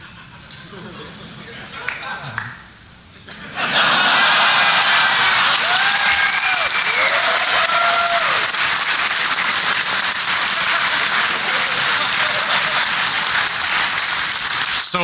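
A conference audience at DEF CON 21 breaks into sustained applause that starts abruptly after a few seconds of quieter murmur and continues loud and dense to the end, with a few whistles and cheers mixed in.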